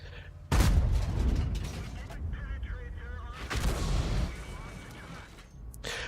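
A tank's main gun fires in World of Tanks with one loud, close boom that leaves a long rumbling tail, then a second blast follows a few seconds later, all over low in-game background noise.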